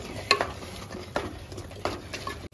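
Masala with turmeric powder sautés in a pan for a Chettinad-style mutton bone kuzhambu, with a low sizzle under three distinct spoon-against-pan scrapes spaced about a second apart.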